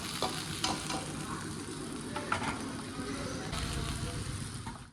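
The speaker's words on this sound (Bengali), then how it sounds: "হয়ে গেছে আলু ভাজা, এখন নামিয়ে নেব।" Steady oily sizzling of potatoes frying in a pan, with a few faint scrapes of stirring, continuous and close.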